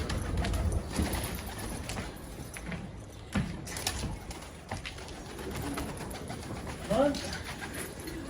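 Pigeons from a rooftop loft taking off together, with rustling wing flutters and a few coos amid faint outdoor background, moderately distant.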